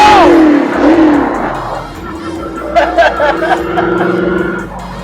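A classic car engine revs up and down through downshifts, with rising and falling pitch and gearbox whine, loud and close, then settling into a steady drone.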